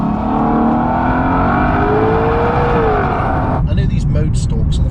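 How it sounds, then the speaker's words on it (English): A Lexus LC500's V8 engine revs in a loud, continuous roar with a rising then falling pitch, holding steady for several seconds before dropping away abruptly. "you do get that wonderful V8 burble at low speeds and roar when you start revving it."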